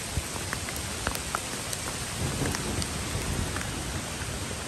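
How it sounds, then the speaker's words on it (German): Heavy rain pours steadily during a thunderstorm in the mountains, a dense, loud hiss of drops striking surfaces with scattered sharper splashes and a faint low rumble, no voices. "Und jetzt ist das Gewitter genau über uns."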